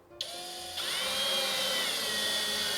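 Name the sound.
power drill driving screws into drilled holes in cabinet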